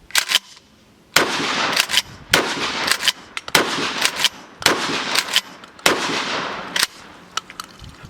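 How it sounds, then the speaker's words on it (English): Winchester Trench Gun 12 gauge pump shotgun firing buckshot: five loud, sharp blasts spaced about a second apart, each with a broad booming decay, with faint handling noise between shots. "But now we're gonna shoot some buckshot."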